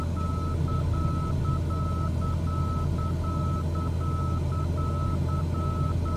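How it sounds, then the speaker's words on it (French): Rapid, regular electronic beeping repeating steadily throughout, over a constant low engine-like hum, no speech. "Voilà, ça bip un peu."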